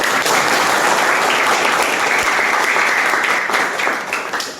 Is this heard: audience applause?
yes